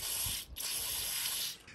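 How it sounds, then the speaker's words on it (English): Compressed air hisses steadily through the low-speed jet of a Honda GCV 160 small-engine carburetor, a close, fairly loud spray with a brief break partway through. "So I'm going to just put a small amount of compressed air through there,"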